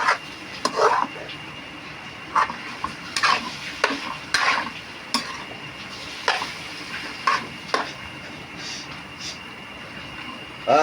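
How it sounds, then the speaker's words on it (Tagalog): Pork hamonado is stirred in a pan with a utensil that repeatedly scrapes and knocks against the metal, producing intermittent clanks over a soft background sizzle. "Halo lang ng halo."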